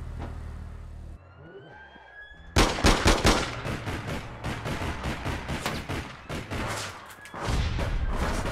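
Gunfire in the online shooter APB Reloaded: after a few quiet seconds, dense rapid bursts of shots break out and keep going, loud and close, with barely a gap.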